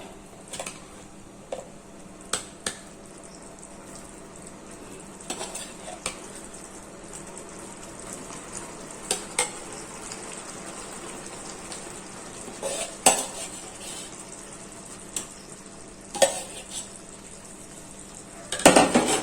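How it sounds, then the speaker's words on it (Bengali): Fried chicken is stirred into a dragon-chicken gravy in a pan, with a soft background sizzle and scattered clinks and scrapes of a utensil against the pan. "এবার আমরা চিকেনটা এই গ্রেভিটার সাথে মিক্স করে দিলাম"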